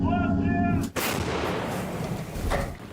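A single deep, booming blast from a Ukrainian Bohdana self-propelled artillery gun cracks out loud and close, followed by a long rumbling roar that slowly fades, with a faint swell near the end.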